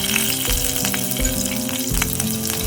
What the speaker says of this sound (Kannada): ಇವಾಗ ಸಪ್ರೇಟು ಬೇರೆ ಒಂದು ಫ್ರೈ ಪ್ಯಾನ್ ತಗೊಂಡು ಅದಕ್ಕೆ ಸ್ವಲ್ಪ ಆಯಿಲ್ ಹಾಕಿ ಮೆಣಸಿನಕಾಯಿ ಹೆಚ್ಚಿಟ್ಟು